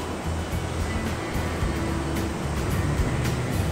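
Waves wash against a rocky shore on a cold morning as the sea calms, a steady broadband roar with soft recurring surges and no voices.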